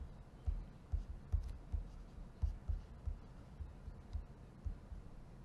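Marker or chalk writing on a board during an electronics lecture, a steady series of soft rhythmic scratching strokes, close and quiet, with no talking.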